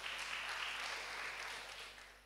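A church congregation at an evening prayer service clapping together, a dense, even wash of applause that fades slightly toward the end.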